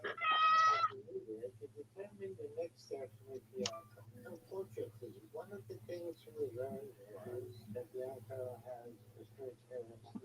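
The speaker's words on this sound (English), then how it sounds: "So I just heard a meow." A cat gives one clear meow at the start, followed by a person talking quietly over a low hum.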